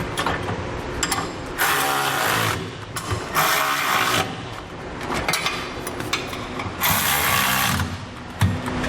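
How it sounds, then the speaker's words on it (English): A ratchet tightening bolts under a 2019 GMC Sierra on a B and W underbed gooseneck trailer hitch, connecting center section to cross members, producing repeated bursts of rapid clicking separated by pauses with metallic handling noise between. "Now we can come underneath and tighten up all of our hardware that's connecting our center section to our cross members"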